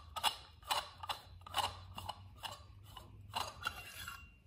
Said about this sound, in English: we just want to unscrew the handle here.